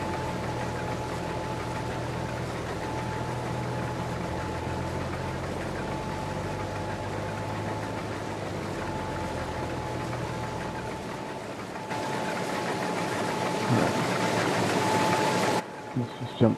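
Tractor engine in a farming video game, a steady low mechanical drone running continuously with a constant tonal hum, shifting in character near the end, while someone talks over it.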